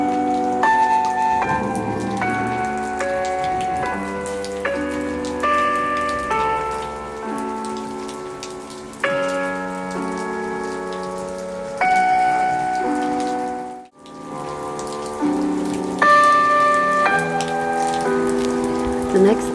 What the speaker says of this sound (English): The next morning, we woke up and it was raining.